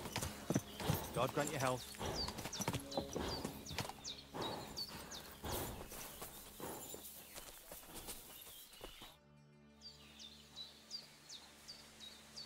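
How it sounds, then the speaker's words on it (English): Horse hooves clip-clop at a steady walking pace in a medieval village in Kingdom Come: Deliverance II, close and fairly loud, with birdsong and a short spoken line over them. "I've got a horse for you here."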